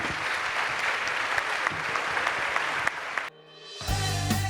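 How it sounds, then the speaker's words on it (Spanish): A live audience applauds a book presentation with loud, dense, sustained clapping that stops abruptly near the end and gives way to a short musical jingle. "démosle un fuerte aplauso"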